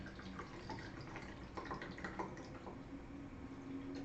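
Liquor poured from a mini bottle into a shot glass, a soft, close trickle that stays steady for a few seconds.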